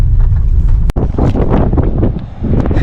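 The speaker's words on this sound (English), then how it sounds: "Still pretty breezy down here." Strong wind buffets the microphone on a stormy coast, a loud continuous roar with a brief dropout early on.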